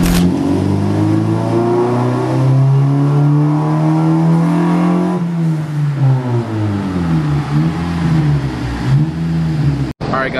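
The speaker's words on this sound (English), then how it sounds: "that pull he did right there made 208" A Honda Civic Si engine revs hard on a dynamometer, its tone climbing steadily through a long pull, then dropping and wavering as it winds down, loud and close, with faint talk beneath.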